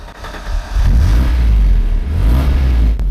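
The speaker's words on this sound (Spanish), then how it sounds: "Inserta la inusual llave redonda de Ford en el encendido." A 4x4 Ford Granada Scorpio, started with its round key: a brief crank, then the engine catches into a loud, deep, steady idle rumble close by.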